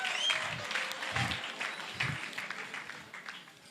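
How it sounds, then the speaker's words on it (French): Audience applause at a gathering, moderate and fairly steady for under four seconds, with a few louder low thumps mixed into the dense clapping before it gradually thins and fades toward the end. "je veux nous prier, nous tous, de les encourager avec des applaudissements"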